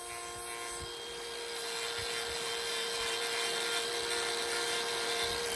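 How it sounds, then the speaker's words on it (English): Hand grinder thinning the horn of a cow's hoof during trimming, a steady high whine running continuously at fairly low level with faint irregular scraping underneath. "now that we've thinned it out with the grinder"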